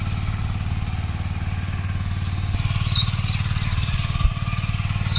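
A tractor engine chugs steadily in a rural village among young fruit-tree plantings. It gives a continuous low, throbbing rumble at moderate distance with a faint clank partway through, and no one speaks.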